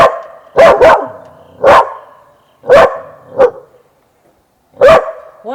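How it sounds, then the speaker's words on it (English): A dog on a front porch barks toward something across the street, about six loud, close barks, some in quick doubles, spaced irregularly with short silences between and no talking. "He's always barking at a deer over there"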